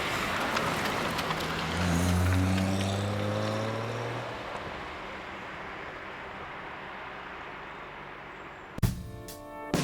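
A Datsun 240Z two-seater with a 130-horsepower 2.5-liter inline six drives past, its engine tone rising and sweeping in pitch over steady road noise, then cut off by a brief clatter near the end.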